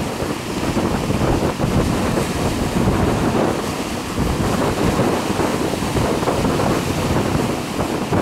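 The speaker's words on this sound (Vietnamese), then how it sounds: "Qua bên này sóng nó dữ thiệt chứ." Strong storm waves and roaring wind at sea buffet a small boat heading toward shore, a loud continuous rush of surf and wind noise without pause.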